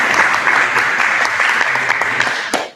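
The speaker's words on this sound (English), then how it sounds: "Round of applause" Applause from a room of students at a student union meeting, a brief burst of many hands clapping steadily at moderate volume before quickly fading out.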